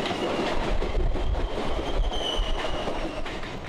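A Biswabharati Fast Passenger train on Eastern Railway rushes past at full speed toward Howrah, a loud, continuous rumble of wheels and carriages with rhythmic clatter and a faint metallic squeal, steady throughout with no voices.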